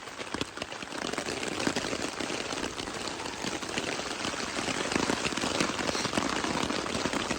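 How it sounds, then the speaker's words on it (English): Steady rain falling on river flats, a dense, even hiss that continues unbroken throughout and stays fairly loud, with no voices. "Well, it's been raining for the last 4 hours, and it doesn't look like stopping anytime soon."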